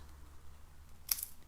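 A single quick scissor snip trimming a paper strip off a handmade stamped card, one crisp close cut in an otherwise quiet room.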